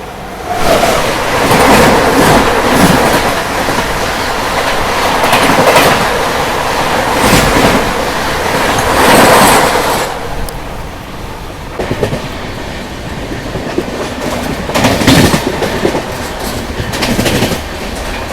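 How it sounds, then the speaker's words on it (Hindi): The Goa Express passes close on the rails near Hadapsar, Pune, with a loud, continuous rumble, rhythmic clickety-clack from the wheels and some faint squeal, fading slightly toward the end. "तो अभी पिछली जो ट्रेन निकली ना वो थी गोवा एक्सप्रेस"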